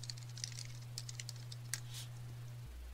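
Light keystrokes patter on a computer keyboard as a command is typed, a quick irregular run of soft clicks over a steady low electrical hum, close by and quiet.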